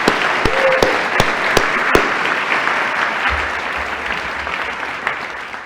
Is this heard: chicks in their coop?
no